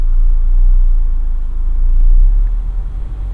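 A manual car engine accelerates in first gear, a close, low rumbling drone that swells and eases over a few seconds with no voices.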